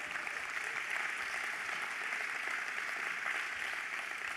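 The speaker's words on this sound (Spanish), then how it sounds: "¡Dale ese fuerte aplauso a Dios," Church congregation applauding, a loud, steady wash of clapping from many hands that carries on without a break.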